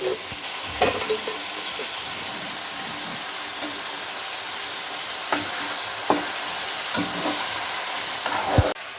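Turmeric stirred into hot oil for a country chicken gravy gives a steady sizzling hiss with occasional scraping clicks of the spoon in the pan, close up and alone.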